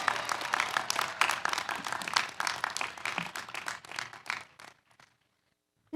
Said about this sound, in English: Can I get a huge round of applause for these people who made this happen for us today?